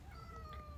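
A house cat meows to be let outside, one drawn-out, rising and falling meow, close and fairly quiet against a low background hum.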